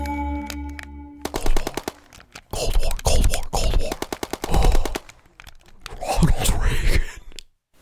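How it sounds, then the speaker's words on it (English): Rapid machine-gun bursts from a Call of Duty first-person shooter, loud and choppy, come in several separate runs with short pauses between them. "Call of Duty, first-person shooter."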